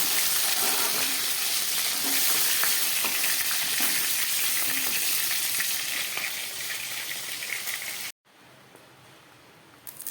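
Oil sizzling loudly in a pan while frying for a chicken curry, a dense continuous crackle with scattered pops that carries on for about eight seconds, then cuts off abruptly into near silence.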